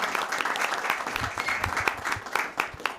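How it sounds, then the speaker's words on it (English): A board meeting audience applauds students, a dense burst of many hands clapping nearby that carries on steadily throughout, with a faint voice beneath. "Let's give them all another round of applause"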